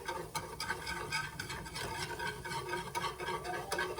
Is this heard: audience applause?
no